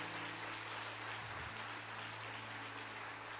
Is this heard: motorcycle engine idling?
no